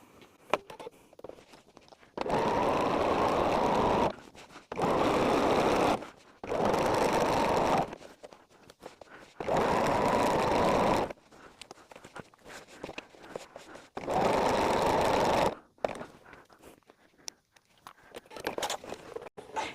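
A sewing machine stitches a zippered bag in six separate runs of steady, loud mechanical whirring, each lasting a second or two, with short quiet pauses of small handling noises between them.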